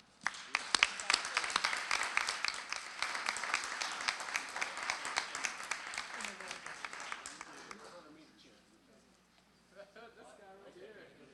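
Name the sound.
audience applause at school board meeting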